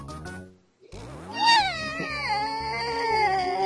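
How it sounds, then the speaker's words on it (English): Cartoon cats meow in the Hamtaro Ham Ham Heartbreak video game, a long wavering synthetic meow rising and gliding down over a backing music loop, after a short silent gap. "Cats, why are you under my feet?"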